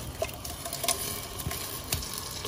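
Blended masala sizzling in hot oil in a pot, with a steady close crackle and a few sharper pops and stirring sounds.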